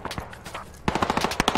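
Automatic machine gun fire in the military shooter Squad, a sparse volley of shots followed by a dense rapid burst, loud and close.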